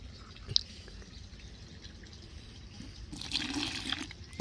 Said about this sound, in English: add a little bit of water in it.